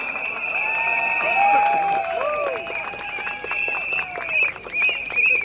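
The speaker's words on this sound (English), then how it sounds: "You deserve the loudest applause for yourself" Supporters standing in the rain at a Singapore Democratic Party rally in Sembawang clap and cheer, a sustained crowd roar laced with shrill whistles and rising shouts, with voices mixed in throughout.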